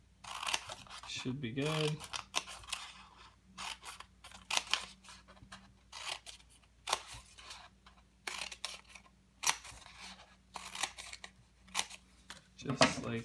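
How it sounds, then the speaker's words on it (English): Scissors snip paper into a kirigami fish with short crisp cuts in quick runs, close to the microphone. Someone talks between and over the bursts of cutting. "The more snips you make, the more your fish is going to fold."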